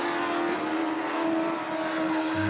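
Racing cars on a circuit, among them a yellow Westfield, drone past in a steady, loud engine roar with a sustained tonal whine that holds across the short stretch without any talk.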